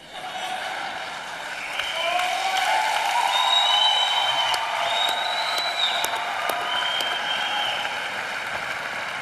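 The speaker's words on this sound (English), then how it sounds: "this is the longest applause we've had at the Nelson Mandela annual lecture" A lecture audience at the Nelson Mandela annual lecture keeps up long, sustained applause, a steady dense clapping wash lasting throughout, with a few whistles or cheers rising above it.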